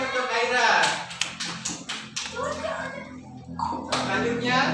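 Students in an elementary classroom clap for a classmate named Aira, a ragged burst of hand claps up front that thins into scattered taps and shuffling, with a teacher's voice speaking over the room.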